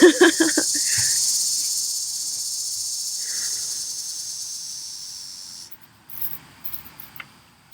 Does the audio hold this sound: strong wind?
no